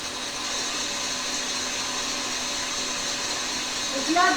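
A stand mixer whirs steadily as it whisks 50 g of egg whites for an Italian meringue for traditional macarons, a constant motor hum throughout, with a brief voice rising at the very end.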